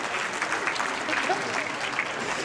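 Family members clapping and cheering together at a meal, steady dense applause with voices mixed in throughout.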